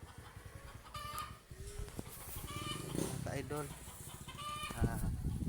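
Chickens cluck and call around a yard at feeding time, with several short clucks scattered under someone talking over them.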